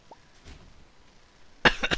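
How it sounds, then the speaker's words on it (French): A short burst of harsh coughing near the end, close and loud, after a quiet stretch with only faint sounds. "J'en ai marre de tousser."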